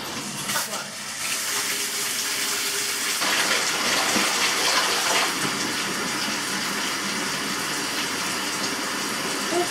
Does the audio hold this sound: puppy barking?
no